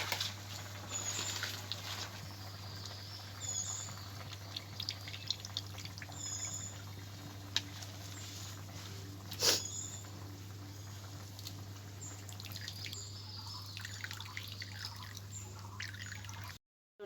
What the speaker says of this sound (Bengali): যে নারকেলটা আমি কুড়ে নিয়েছিলাম তার থেকে আমি দুধটা বের করে নেব।